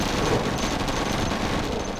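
Rapid, continuous automatic quad cannon fire in the video game Command & Conquer: Generals, a dense sustained rattle of shots with no pauses, loud and close.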